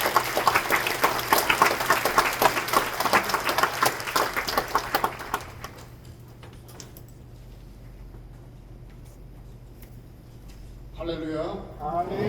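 Church congregation at a joint Liberation Day worship service clapping as the pastor comes forward, dense applause that fades after about five seconds, followed by quiet room tone and then a voice starting to speak.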